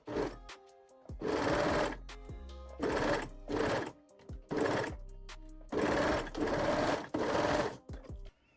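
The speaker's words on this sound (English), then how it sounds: "Sew the crotch seam on side A with the serger" Serger sewing the crotch seam of a reversible bikini bottom, running in several sustained bursts of rapid whirring stitching separated by short pauses, close and fairly loud.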